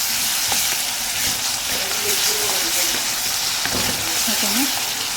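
Ginger paste fries in a hot pan, with a steady loud sizzle and hiss throughout and a brief tonal whine partway through.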